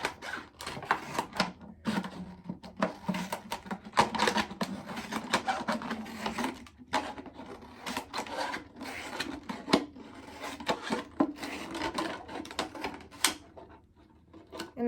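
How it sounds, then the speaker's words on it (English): Scissors snip around a plastic beetle trap in a series of irregular rasping cuts, close and fairly quiet, with short pauses between strokes. "Now I'm going to take my scissors."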